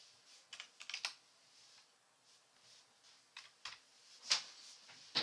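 Bursts of typing on a computer keyboard during a Battlefield 3 2v2 cup match, with scattered quick clicks and clustered keystrokes, close and fairly quiet, and no talking.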